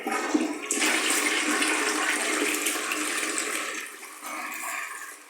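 A toilet flushes after being unclogged, a close, loud rush of water that roars steadily for several seconds, then drops into a quieter gurgling refill before fading.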